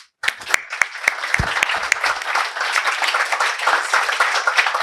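An audience at a fireside chat event breaks into sudden applause after a brief silence. The clapping starts with a few sharp, separate claps, then builds into a dense, sustained round that fills the room.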